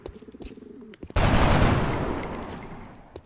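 A gunshot in the turn-based strategy game XCOM: Enemy Unknown: after quiet game sounds and cooing birds, a single loud, broadband blast hits sharply and then slowly decays over about two seconds.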